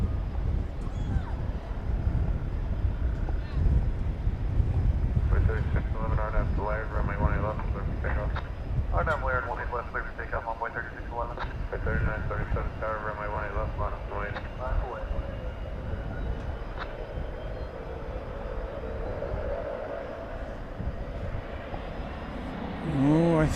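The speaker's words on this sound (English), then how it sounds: "It's an Airbus A319." An American Airlines Airbus A319 takes off at Dallas Fort Worth airport bound for Wichita, a steady jet engine rumble rising to a loud roar, heard beneath people talking.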